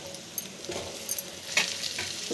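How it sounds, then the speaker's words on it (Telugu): Drumsticks drop into hot oil with ginger-garlic paste for a tomato drumstick masala curry, setting off a close, crackling sizzle with a few sharp pops and light stirring scrapes. "నూనె తేలేటప్పుడు మునక్కాయలు వేసుకోవాలి"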